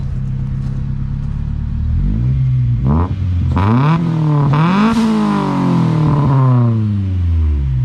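A Honda Civic EG or CRX engine revs up and down in loud, rising and falling sweeps at a track event, close by and continuous, with no talking.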